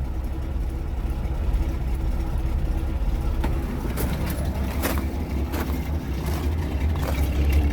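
A 1978 Chevrolet C10 Custom Deluxe engine running on a temporary fuel setup, a steady, loud low rumble of idling throughout with a few sharp clicks and knocks over it.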